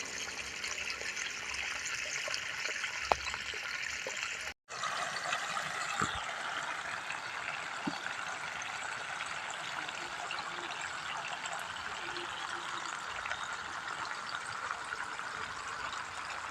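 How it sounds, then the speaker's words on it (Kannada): Water running out of a hose pipe in a rural setting during summer, a steady close trickling flow lasting throughout with a brief break partway, no talking. "ಇದು ನಾನು ಈ ಕಡೆ ಪೈಪ್ ಹಿಡ್ಕೊಂಬಂದು ನೀರು ಬಿಟ್ಟಿದ ತಕ್ಷಣ ಹೆಂಗೆ ಆಗ್ಬತ್ತು ನೋಡಿ"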